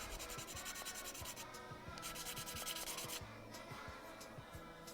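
Coarse sandpaper, below 800 grit, rubs back and forth on a part of a 1/12 scale vending machine model kit in steady rhythmic strokes, close but quiet, with no talking.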